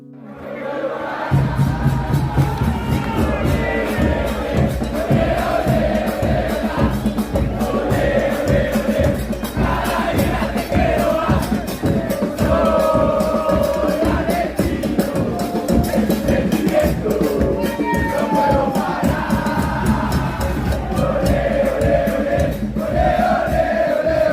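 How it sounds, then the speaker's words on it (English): Argentinian football fans singing together outside a stadium before a match, a loud dense crowd chant with rhythmic beats and shouts that carries continuously from start to finish. "the Argentinian fans were outside the stadium 4 hours before the match kicked off, singing football songs and heading balls into the crowd"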